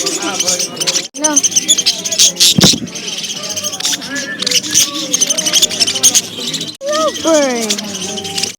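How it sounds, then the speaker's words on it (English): Bird chirps with rising and falling whistled sweeps, loudest near the end, mixed with squeals and heavy overlapping talk from several people close by. "Bird."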